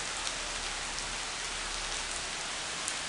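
Steady, even rain pours down in Guajará-Mirim, Rondônia, during a September downpour, a dense continuous hiss with no other sounds.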